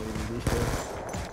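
Gunfire in the Call of Duty Black Ops 2 video game, a short close burst of shots lasting under a second amid in-game sound, with a voice faintly present.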